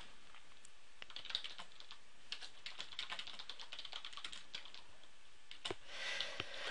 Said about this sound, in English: So of course you can type straight into the program.